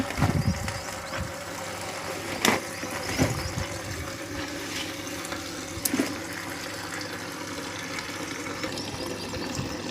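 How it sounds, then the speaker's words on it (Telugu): An electric water pump motor hums steadily while water gushes and splashes out continuously at a home laundry area, with a few sharp knocks and clatters over the flow. "మోటార్ వేసాను మోటార్ నీళ్ళు వస్తున్నాయి"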